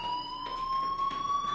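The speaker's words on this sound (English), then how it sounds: "Hey, do you hear that fire alarm?" Fire alarm ringing in the video game Life Is Strange, a steady high electronic tone held continuously at moderate loudness over faint background noise, with no talking.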